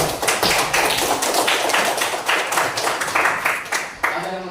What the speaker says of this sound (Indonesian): Beri aplaus dulu untuk Omen.